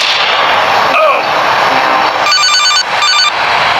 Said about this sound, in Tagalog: I get the cell phone.